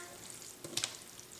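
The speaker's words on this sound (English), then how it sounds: "I'm gonna give it a quick stir." Basil, garlic and tomato sizzle quietly in a pan, a soft steady hiss broken by a couple of quick scraping stir strokes near the middle, close and faint with no voices.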